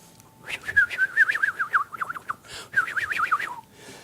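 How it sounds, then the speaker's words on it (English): Birds sing outdoors in two bright bursts of rapid, warbling whistled notes, close and clear, separated by a brief pause. "The birds are going."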